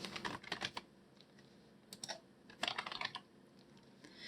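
Clicks from a computer keyboard come in two quick bursts of typing with a pause between them, close and fairly quiet, with no voices.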